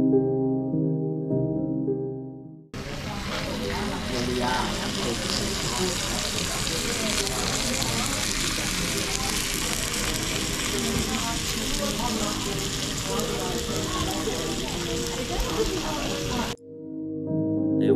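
Steak and German Kransky sausage sizzle loudly and steadily on a hot plate, a dense crackling fry running for about fourteen seconds between quieter stretches of café chatter at either end.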